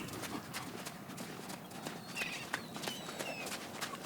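A Connemara pony clip-clops steadily with its hooves in a regular, close rhythm, a faint whinny-like call appears partway through, and there is no talk.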